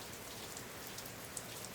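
Steady outdoor rain falling over greenery in nature, a soft, even hiss of drops with a few closer patters, quiet and continuous with no voices.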